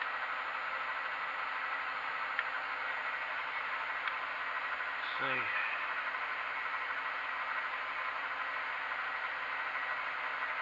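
A power drill spins a 10mm bit at about 800 rpm, giving a steady, continuous whirring hum that runs unchanged throughout, with a brief voice murmuring partway through.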